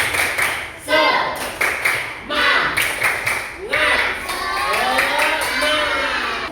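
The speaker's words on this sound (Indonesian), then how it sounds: "1, 2, 3 tepuk semangat." Classroom of students doing a rhythmic spirit clap, bursts of clapping in a patterned beat broken by short pauses, followed by voices shouting together near the end.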